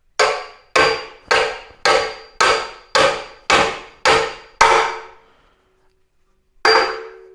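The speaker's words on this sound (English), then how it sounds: "I'm going to use this big brass hammer." A big brass hammer tapping a frame stretch part into a Honda ATC 70 frame, nine loud evenly spaced metallic blows about a second apart, then a pause and one final ringing hit.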